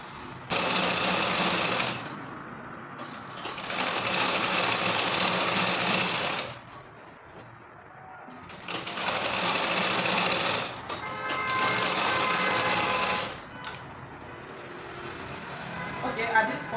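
A sewing machine stitches a trouser seam in several loud, close runs of rapid buzzing, each a few seconds long, separated by short pauses where fabric is handled.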